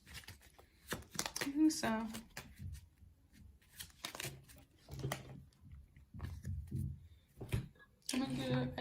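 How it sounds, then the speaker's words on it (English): An affirmation card deck being shuffled by hand, with several crisp riffling bursts spread across the stretch while a person talks intermittently. "I'm just gonna shuffle. Okay. From one of my old like affirmation deck here."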